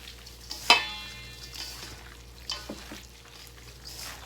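Pork jerky marinade mixed by hand in a bowl, made without soy sauce and with a little oil, gives a sharp wet squelch near the start and then softer intermittent squishing and stirring, close and fairly quiet, with no talking.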